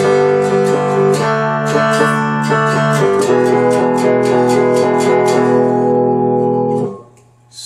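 A cigar box guitar tuned to open G plays the opening of a song, sustained ringing chords with picked notes over a droning low string, loud and alone, fading out at the end.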